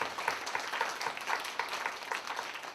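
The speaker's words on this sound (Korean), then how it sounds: "우리 박수하도록 하겠습니다." An audience at a church student retreat applauds, a soft, fairly distant patter of many hands clapping with a loose rhythmic pulse running evenly throughout.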